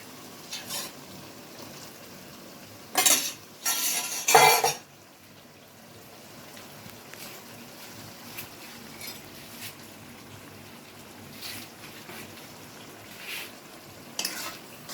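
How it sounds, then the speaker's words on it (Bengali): Spice masala frying in a pan for chana masala, a soft low sizzle under occasional stirring scrapes, broken by a few loud bursts of coughing and throat clearing near the start. "মশলাটা যেই ভাজা হয়ে যাবে তখন আমি ওর মধ্যে চানাটাকে পুট করব।"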